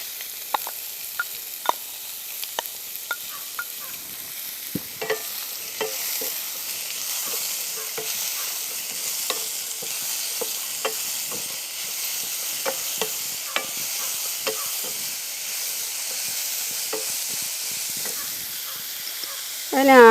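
Chopped radish fries in a pan with curry leaves, a continuous soft sizzle and hiss broken by frequent light clicks and scrapes of stirring, steady and close for about twenty seconds.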